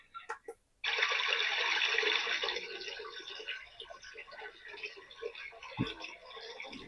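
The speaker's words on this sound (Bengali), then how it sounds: "এটাও নদীর ঢেউয়ের শব্দ, পানি পড়তেছে এমন" Recorded river-water sound played through a small night-lamp alarm clock speaker: a steady, fairly loud wash of rushing, trickling water that starts abruptly after a few faint ticks and continues alone.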